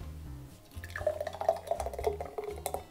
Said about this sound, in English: the first thing you're gonna wanna do is pour in the strawberry puree